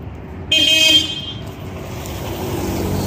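A car horn toots once, loud and close, for about half a second over steady roadside traffic noise, outdoors near Catania airport.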